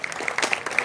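An audience claps inside a hall at a Congress political meeting, a brief scattered patter of hands that is moderately loud and close, lasting under a second.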